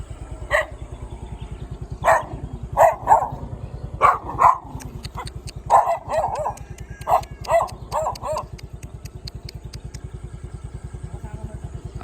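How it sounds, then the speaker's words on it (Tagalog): Several dogs barking in short irregular bursts on a rural farm, moderately near, over a steady low engine-like drone. "Dami ng aso."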